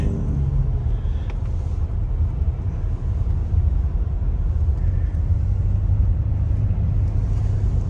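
A 1989 BMW 735i with a 3.5-liter straight-six engine is heard from inside while driving: a steady, heavy low rumble of engine and road noise, with wind, throughout and no talking.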